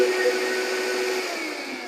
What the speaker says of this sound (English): I think I messed up your blender.